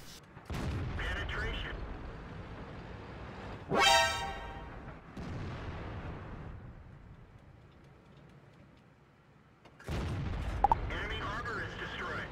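A tank cannon in World of Tanks firing repeatedly, heavy booming shots spaced a few seconds apart with a sharp crack and fading rumble, under quiet talk.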